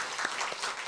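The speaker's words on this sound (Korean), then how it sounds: "우리 박수로 다시 한번 우리 격려하도록 하겠습니다" A church congregation at a Korean revival service claps in steady applause, a dense wash of many hands sounding close and continuous through the short moment.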